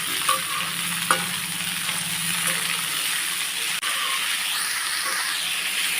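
Onion and garlic sautéing in oil over a low flame for a spicy onion-chilli thokku, a steady close sizzle with occasional scraping stirs of a spoon against the pan.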